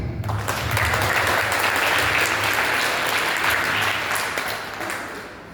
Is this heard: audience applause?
yes